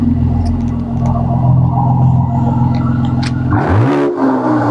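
A Mercedes C43 AMG engine in Sport Plus mode idles with a loud, steady burble, then blips into a sharp rising rev and settles back, heard close up with no talking.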